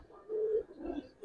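Giribaz pigeons of a coloured Palla line cooing, two low soft coos close by in a quiet setting.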